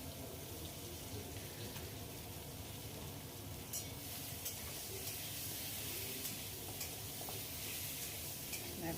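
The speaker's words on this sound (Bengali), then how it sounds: "এরকম করে একটুখানি নেড়ে নিচ্ছি একদম গ্যাসটাকে কমিয়ে দিয়েছি" Amra chutney with turmeric being stirred in a pan over low gas in a Bengali kitchen, a steady soft wet scraping and bubbling that runs continuously at low level with occasional sharper clicks.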